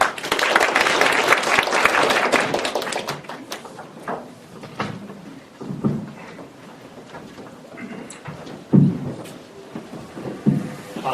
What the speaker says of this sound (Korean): 예, 이승님 박수로 모시겠습니다.